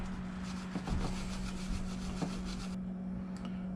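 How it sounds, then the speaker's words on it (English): A small stainless wire brush scrubs salt corrosion off an alignment pin on a Suzuki DF90A outboard, a close, steady rasping with a few sharper strokes and a constant low hum underneath. "I hit it with a little stainless brush."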